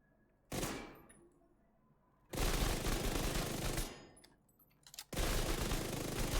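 Automatic weapon fire in The Division 2, during a damage test against an invulnerable elite: three loud sustained bursts of rapid shots, the first short, the next two long, separated by near-silent gaps.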